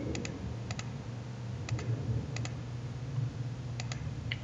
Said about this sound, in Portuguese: vamos digitar a senha aqui